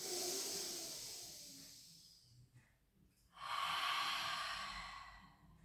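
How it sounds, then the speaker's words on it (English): Deep breaths during a relaxing pilates session: one long, airy inhale or exhale fades, then after a brief pause a second strong, hissing breath follows. Close to the mic, with no talking. "Let's get some deep breaths in and out."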